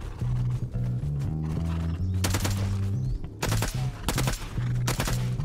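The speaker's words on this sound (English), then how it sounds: "My neighbor shot me from the roof, right in front of my base." Gunfire from players shooting in the survival game Rust, with sharp bursts of rapid shots cutting in over a droning, stepped tonal background, several clustered volleys near the middle and end, loud and close, no talking.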